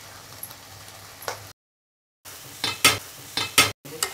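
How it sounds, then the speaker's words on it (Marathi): A spoon stirs spicy egg and boiled potato curry in a pan, giving a few scraping strokes and light sizzling, then a short silence followed by a run of sharp, rhythmic scrapes close by. "याला व्यवस्थित चालून घेऊ।"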